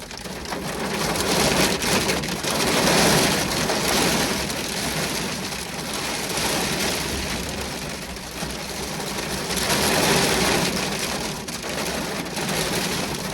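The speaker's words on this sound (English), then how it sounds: "It started hailing." Hail falls heavily outdoors, a dense, loud, continuous rattle and patter on surfaces that swells and eases slightly throughout with no talk.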